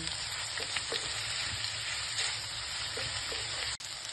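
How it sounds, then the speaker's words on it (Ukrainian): Sliced mushrooms and onion half-rings fry together in a pan, giving a steady, close sizzle with soft scraping as they are stirred, plus a brief clatter near the end. "Помішуючи все разом смажимо до м'якості цибулі."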